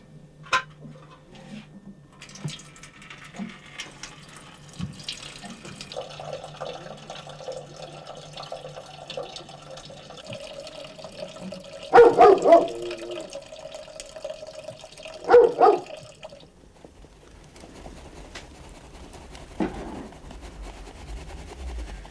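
Water poured gently into flour while festive bread dough is made for a Christmas Eve koledari ritual in Pirgovo village, Ruse region, Bulgaria; soft trickling comes in a few brief bursts over a quiet room with faint background tones.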